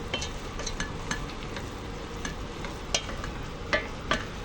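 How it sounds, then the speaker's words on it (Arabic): Onion bubbles gently in hot olive oil for a lentil and bulgur dish, a low steady sizzle broken by a few sharp pops and clicks, with no one speaking. "شايفين شلون بتبقبق شغله"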